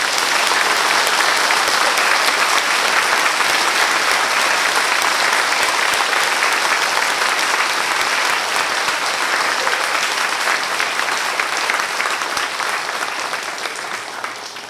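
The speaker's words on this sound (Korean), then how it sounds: "박수로 환영해 주시기 바랍니다" A congregation at a church New Year revival service applauds steadily and loudly for about fifteen seconds, a dense, even wash of clapping that fades slightly toward the end.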